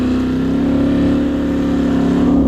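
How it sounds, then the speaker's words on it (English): A built Can-Am Outlander ATV engine holds a steady, loud, close-up drone with a buzzing, slightly rising tone throughout. "There's nothing like a built Can-Am."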